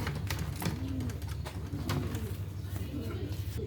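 Soft, repeated cooing of a blue bar hen pigeon rises and falls a few times over a low background rumble, with a voice talking faintly.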